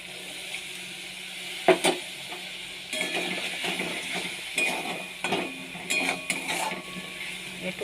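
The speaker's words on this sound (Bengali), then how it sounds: "একটু সামান্য জল দিয়ে আবার ভালো করে একটু কষে নেব।" A spice masala loosened with a splash of water is stirred and sautéed in a pan. A utensil scrapes and clinks against the metal in irregular bursts over a soft sizzle.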